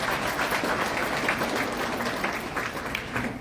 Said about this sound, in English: you all should give yourself a round of applause